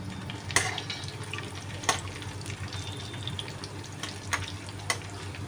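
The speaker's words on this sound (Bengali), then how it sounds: "একটু মশলাটা ভাজা ভাজা হচ্ছে" Cumin seeds, dried red chilies, bay leaves and whole garam masala sizzle in hot oil beside fried potatoes, a faint steady crackle with a few sharp clinks of a spatula against the pan.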